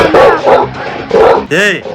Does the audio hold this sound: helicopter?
no